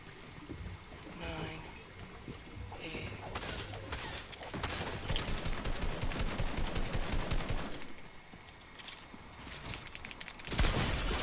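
Rapid gunfire bursts from OG shotguns in a Fortnite-style battle game, loud and dense for several seconds, with shots tapering off then a final sharp blast near the end; a voice talks over the action.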